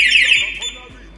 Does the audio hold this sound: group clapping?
no